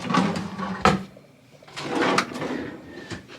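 Drawers in a deep, mid-sized fridge in a Cabana Bay Beach Resort room slide open and shut, giving soft scraping glides and a sharp knock near the middle.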